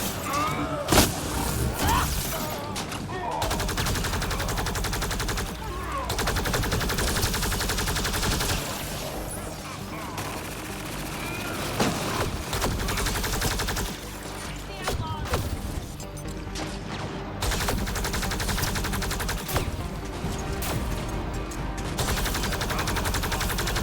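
Dense gunfire from snipers and other combatants in the video game Mass Effect Andromeda, a loud, nearly unbroken barrage of shots and impacts lasting the whole stretch while someone talks over it.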